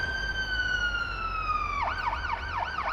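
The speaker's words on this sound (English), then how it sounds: "I would really like the ability to turn off the siren here and leave the lights on" An ambulance siren wails loud and close, holding a steady, slowly falling tone before it breaks into a rapid rising-and-falling yelp over a constant road rumble.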